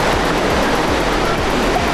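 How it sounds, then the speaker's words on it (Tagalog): Strong ocean waves breaking at Diniwid Beach, Boracay: a loud, continuous roar of surf with steady wash and low rumble, no voices. "Ang lakas ng alon"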